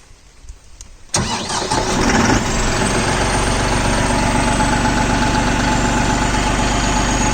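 A New Holland 5620 TX Plus CRDI 65 HP tractor engine cranks and catches after about a second, then settles into a loud, steady diesel idle close by, with no voices.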